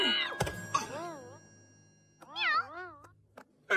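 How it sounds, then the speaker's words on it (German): A cartoon kitten gives several high, wavering meows, a quick pair early on and a louder drawn-out cry later, mixed with a thump and sparse voices. "Das Kätzchen!"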